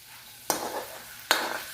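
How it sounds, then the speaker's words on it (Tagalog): Dried fish is sautéed in a pan: two quick, close stirring scrapes, each followed by a short burst of sizzling, over a quiet background. "So after sauteing it, like that, mixing it all"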